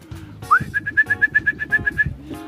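A racing pigeon coos low and close while a quick run of bright, evenly spaced whistled notes rings out over it.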